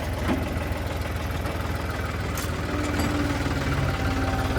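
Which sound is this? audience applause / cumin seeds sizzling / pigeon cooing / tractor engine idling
tractor engine idling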